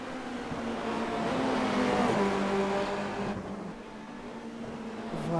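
In a racing video game, a Formula Renault 2.0 race car accelerates at Zandvoort with a buzzing engine note that climbs in pitch, then drops back and starts rising again. The engine is steady and moderately loud, with no voices.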